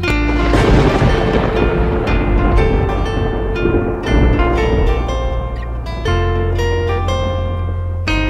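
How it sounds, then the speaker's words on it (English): A thunder sound effect rumbles through a children's nursery rhyme about rain, mixed loudly with the bright backing music as low, rolling swells. "I hear thunder"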